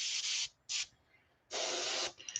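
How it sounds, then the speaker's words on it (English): Short hissing bursts of spray paint are applied to a light bluegill-pattern swimbait fishing lure, three separate sprays with quiet pauses between them, close and crisp. "I'm going to spray this basically just like along this area"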